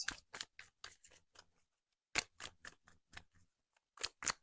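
A deck of tarot cards is shuffled close to the listener in quiet bursts of crisp riffling and snapping. The bursts come in uneven runs separated by short pauses, with no talking.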